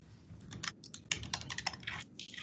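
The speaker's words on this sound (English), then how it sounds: "I do hear people typing" Several people typing on computer keyboards during a quiet workshop session, a soft, irregular patter of key clicks at moderate distance with no talking.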